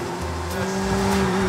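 Car engines idle and drone in busy traffic around a roundabout in Helsinki, Finland, a steady close hum with tyre rumble and no talk.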